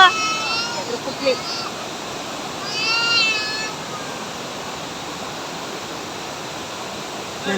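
Water at Abbi Falls near Sakaleshpur in Hassan, Karnataka, roars as a constant broadband rush, while a high voice briefly cries out over it.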